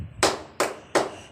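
Three sharp, loud claps at an even pace from children doing a tepuk wudhu clapping chant, each a crisp broadband burst with short gaps between.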